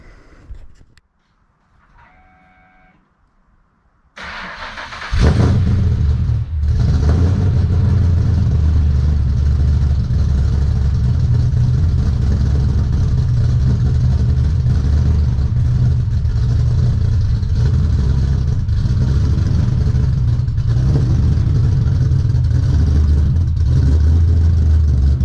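Nissan R34 Skyline GTR engine starting after a quiet moment, then running with a loud, sustained, rumbling idle and a slight rev early on, close and steady with no talk.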